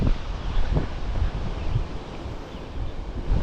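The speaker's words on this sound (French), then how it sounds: "Il va y avoir beaucoup de vent, donc vous risquez d'entendre pas grand chose." Strong wind buffeting the microphone on a hike to the Roche qui Pleure, a constant roaring rumble with gusts swelling and easing, no voices.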